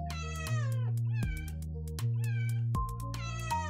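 A video game cat from a PROCJAM 2018 procedural-generation game meows repeatedly in short, tonal calls over steady synthetic background tones, about five meows in quick succession.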